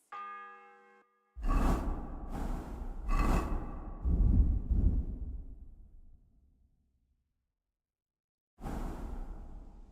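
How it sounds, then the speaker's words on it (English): Deep bell tolling in the video game Kingdom Come Deliverance II: three heavy strikes in quick succession, each ringing out and slowly decaying, followed after a pause by a fourth strike, clear and alone without talk. "The 6th bell."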